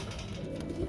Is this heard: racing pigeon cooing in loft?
yes